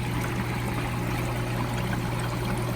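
Aerated water bubbles and churns steadily inside an Easy Pod koi pond filter, tumbling K1 media in dirty pond water, a constant close rushing fizz with no talk.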